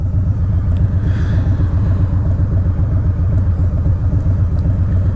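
A 2020 Harley-Davidson Low Rider S with a Stage 1 upgrade rides along with a loud, steady, deep engine rumble that holds constant throughout, close up, with no talking.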